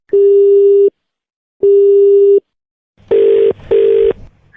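Telephone line tones after a call is cut: two long even beeps separated by silence, then two shorter, harsher beeps with faint background noise, loud and close as if through the handset, no speech.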